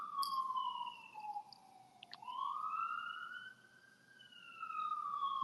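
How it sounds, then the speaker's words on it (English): A police siren wails in a steady rising and falling sweep, fairly loud and continuous through the whole stretch, with no voices over it. "I just hear a police siren."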